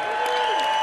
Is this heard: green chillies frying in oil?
no